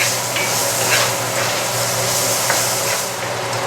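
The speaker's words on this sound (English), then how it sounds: "I'm going to add some carrots, and I'm going to saute those for about 3 or 4 minutes till they get nice and soft" Carrots sauté in oil in a pan while venison dishes are cooked, a steady broadband sizzle holding evenly throughout with faint stirring clicks scattered on top, close and continuous with no talking.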